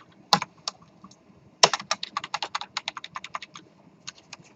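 Keystrokes on a computer keyboard while code is entered: two sharp isolated taps, then a fast, steady run of close, crisp clicks, with no talking.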